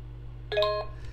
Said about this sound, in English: And then I hear that short musical tone.